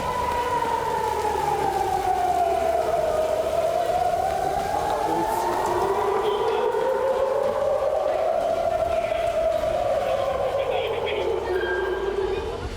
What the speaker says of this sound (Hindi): फिजा में जंगी सायरन की खौफनाक गूंज।